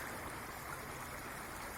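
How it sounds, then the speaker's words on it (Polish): The small Rakówka river pours through a fish pass beneath railway tracks, a steady close rushing of water with even, unbroken texture throughout. "Tutaj ta rzeczka sobie tak wypływa."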